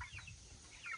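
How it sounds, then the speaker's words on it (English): Heritage broiler meat chickens cluck softly in a garden pen, a few faint, scattered calls over quiet background with no talk. "these are a meat chicken that we can raise up and then hatch out the eggs"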